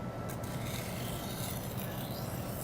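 A knife blade is drawn across the medium-coarse stone of a sharpener, giving a steady, close, sandpaper-like rasping scrape that runs the whole time with no speech.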